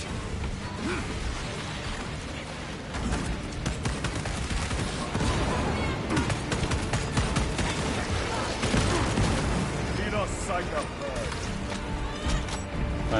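Gunfire from the Space Marine 2 video game roars in dense, continuous bursts and rattling volleys, loud and close, with voices speaking over the battle.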